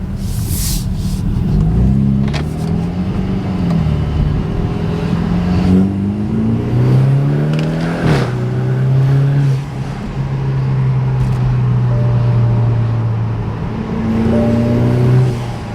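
A turbocharged BMW F31 car engine with an upgraded intercooler and charge pipe pulls hard in first gear, pitch climbing in repeated sweeps between shifts, loud and close with no talking.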